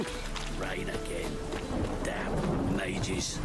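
Rain and rumbling thunder in a video game, a steady wash of rainfall with low rolling booms, while voices talk over it.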